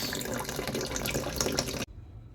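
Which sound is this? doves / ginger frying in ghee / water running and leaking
water running and leaking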